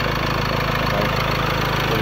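A 2015 Ford Ranger XLS pickup with a 2.2 turbo diesel engine and automatic gearbox idles nearby, giving a steady, even rumble with no talking.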